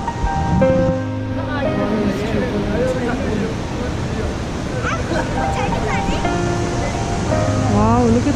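A waterfall in the Indian countryside pours with a constant broadband rush, with people talking clearly over the water the whole time.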